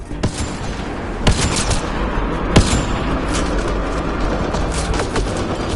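Gunfire in Mass Effect: Andromeda during a firefight with pirates, a dense fusillade of shots with two sharp louder cracks standing out over a continuous rattle of weapons and booms.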